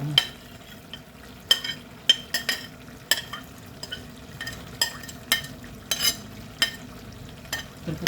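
Fresh food dropped into hot oil crackles and sizzles up close, punctuated by repeated sharp spatters and stirring clinks in an uneven rhythm, with no voices.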